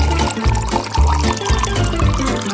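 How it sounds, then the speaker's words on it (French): Boiling water poured from a kettle onto instant noodles, a steady, fairly loud splashing pour that runs continuously from start to finish. "je vais mettre de l'eau bouillante."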